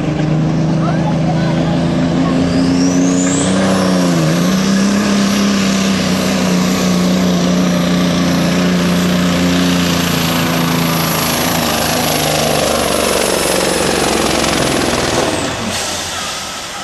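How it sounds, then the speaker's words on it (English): A racing big rig truck at Buck Motorsports Park in an ATPA event roars past with a loud, sustained engine drone that rises in pitch and fades toward the end. "unbelievable watching this truck run."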